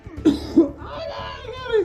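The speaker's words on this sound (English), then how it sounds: "He's coughing. That's real." Two or three sharp, harsh coughs close by, with strained throaty sounds and muffled vocal noises between them.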